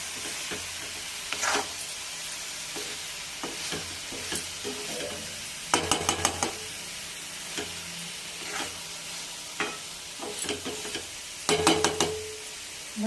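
Eggplant curry being stirred in a pot, soft steady simmering hiss broken by scattered scraping spoon strokes and a few clustered clatters against the pot.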